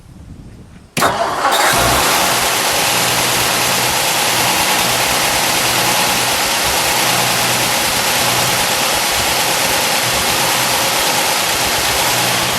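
A 1955 Mercury Montclair V8 with solid lifters cranks and catches with a sudden roar, then settles into a steady, loud, even idle that runs on without pause.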